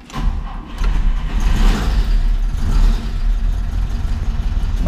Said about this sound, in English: Car runs wonderfully well, starts up quite easily.